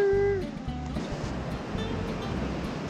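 Surf washing over a rocky beach, a steady rushing wash of waves with some wind buffeting the microphone, heard close and fairly loud throughout.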